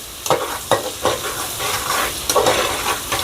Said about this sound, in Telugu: బాగా వేయించుకుంటే అండి ఈ వేపడంలోనే అది టేస్ట్ మనకు బాగుంటుందండి